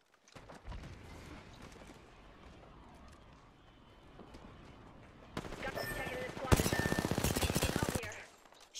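Video game gunfire in a full-party PC shooter match: rapid automatic bursts swell loud in the second half, layered over steady game ambience and quieter background activity.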